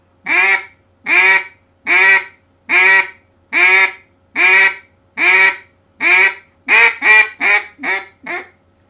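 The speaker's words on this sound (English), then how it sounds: "See how long you can do the quack, quack, quack, quack, quack, quack." A duck call blown by a beginner produces a loud, steady series of about thirteen nasal quacks, evenly spaced at first and then quickening and fading toward the end, with no talking.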